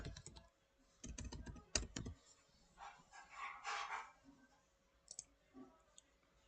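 Fingers tap out bursts of clicks on a computer keyboard at a search bar, quick clustered keystrokes near and fairly quiet, broken by pauses and faint background noise with a muffled sound in the middle.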